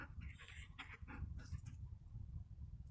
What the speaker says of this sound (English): Where's my dog? You can hear him crying.